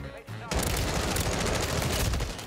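After a brief quiet moment, a loud, dense burst of M16 rifle fire erupts in Call of Duty Warzone and continues as sustained rapid shooting to the end.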